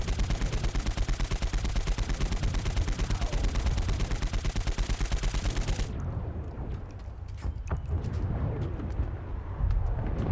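Rapid, continuous automatic gunfire from Saints Row IV fills the first six seconds loudly, then breaks off into a quieter reload stretch with scattered clicks, distant shots and booms.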